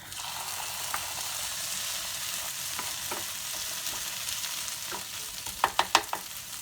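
Onions and corn fry in a pan with a steady, close sizzle, and a few sharp clinks and scrapes of stirring come near the end.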